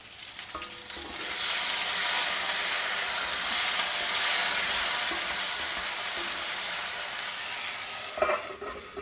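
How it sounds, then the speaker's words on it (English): Stuffed brinjals fry steadily in oil in a pan on a low flame, giving a continuous, even sizzle and hiss that stays close and loud throughout with no talking. "Cover it and allow it to cook on a low flame till done."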